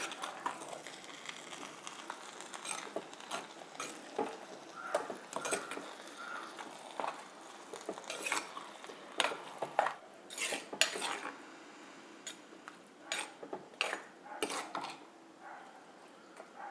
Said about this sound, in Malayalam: നമ്മൾ തൈര് സാദം നന്നായിട്ട് മിക്സ് ചെയ്തു.